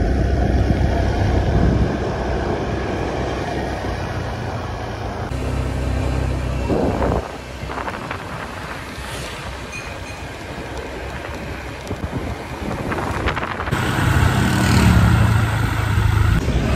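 A motorbike ridden on the road by a woman rumbles steadily beneath heavy, continuous wind buffeting. The engine and wind noise stay loud and close throughout, with no speech.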